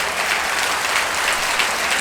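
Dense applause from a large audience at a religious gathering, a steady unbroken wash of clapping filling the whole moment with no voices on top.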